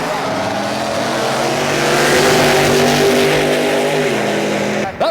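Wheelie truck, the Little Red Wagon, racing down a drag strip at a truck show in Martin, Michigan, a loud sustained engine roar that builds and holds for several seconds before cutting off abruptly.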